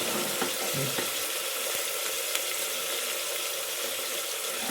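Goat leg curry masala with onions sizzles steadily in a hot pan, a loud continuous frying hiss with faint stirring scrapes and no talking.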